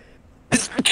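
A single sharp sneeze bursts out close by, followed by a brief second burst of breath, with no other sound around it.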